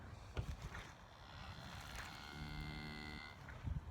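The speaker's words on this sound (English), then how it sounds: "Other than that, the cattle are doing pretty good." Cattle on a farm let out a clear, sustained moo near the middle, loud and close, with scattered rustling and thumps before and after.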